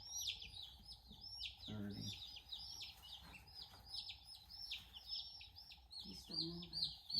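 Newly arrived meat bird chicks, delivered by post, cheep in a rapid run of high peeps that repeats close by throughout, while a person counts aloud over them and brief low thumps sound.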